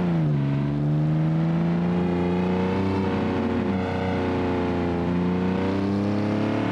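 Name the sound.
car engine revving in BeamNG video game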